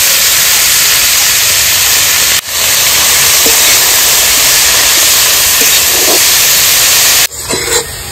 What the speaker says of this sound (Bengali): প্রথমে আমি মেথি শাক ভেজে নেব। হালকা ভাজবো, খুব বেশি ভাজবো না।